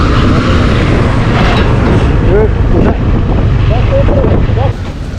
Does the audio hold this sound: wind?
yes